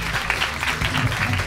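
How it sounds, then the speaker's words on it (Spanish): Brief audience applause welcoming Tatiana on a live show in Uruguay, a thick burst of clapping mixed with crowd noise and voices, lasting barely over a second. "¡Fuerte el aplauso para Tatiana!"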